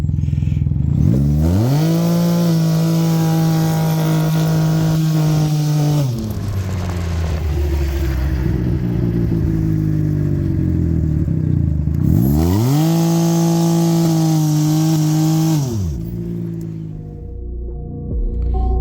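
A Can-Am Ryker three-wheeled motorcycle fitted with a Dynojet throttle commander revs at full throttle. Two long, loud, sustained high revs rise and hold, with an idling lull between them and a drop at the end.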